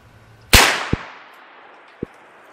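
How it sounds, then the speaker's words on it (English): Three shots from a 350 Legend rifle firing Bear Creek ammunition: one loud, sharp report with a long outdoor decay, followed by two short, fainter clicks or knocks. "Let's go 3 shots of this Bear Creek stuff."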